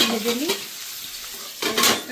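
Katla fish frying in oil makes a steady sizzling hiss, punctuated by two louder bursts of crackle and a utensil scraping the pan, heard close with no speech.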